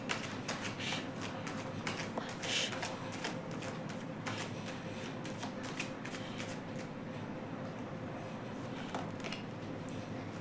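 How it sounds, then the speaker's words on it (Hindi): Tarot cards shuffled and handled steadily for the whole stretch, a dense papery riffle with soft flicks and slaps close to the microphone, and no voice over it. "पहले मैं सारे कार्ड्स निकाल लेती हूँ"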